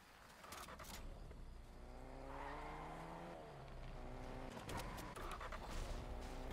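Fortnite car driving, a steady engine drone with rising and falling pitch sweeps and a few tire scuffs, fairly faint and heard alone.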